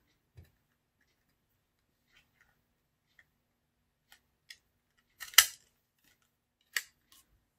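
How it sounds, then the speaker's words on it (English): Scissors make a few sparse, crisp snips while cutting out a dried paint skin, close and quiet with near silence between cuts. "So I'm going to go ahead and I'm going to cut"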